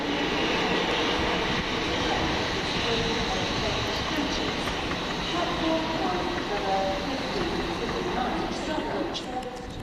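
Southern class 377 electric unit 377607 running through East Croydon station, a steady broadband rumble and hiss of wheels on track held at an even loudness throughout, with faint voices in the background.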